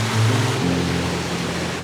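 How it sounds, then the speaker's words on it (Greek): Water rushes steadily through the Enipeas gorge on Mount Olympus, a gorge of rock pools and small and large waterfalls, giving a loud, continuous close-up roar with a low hum beneath it. "Όλο το φαράγγι του Ενιπέα είναι γεμάτο με βάθρες και μικρούς και μεγάλους καταράκτες."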